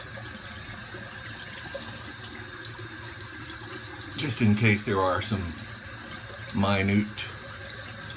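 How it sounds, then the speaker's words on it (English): An alum block is rinsed under a running tap after a shave, the water flowing steadily at moderate level while someone talks over it in short stretches. "Rinse the block back off."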